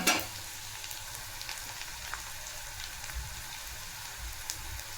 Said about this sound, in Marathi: तर इथं कांदा आणि हिरवी मिरची छान फ्राय झाला आहे.